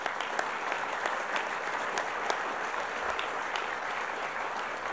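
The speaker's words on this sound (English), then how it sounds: "Give yourselves a round of applause." A crowd at a New York broadband program announcement gives a round of applause, steady dense clapping heard at moderate distance for about five seconds.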